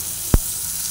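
Rice fries lightly in a pan with oil and bay leaf, giving a faint, steady sizzle broken by one short knock of stirring.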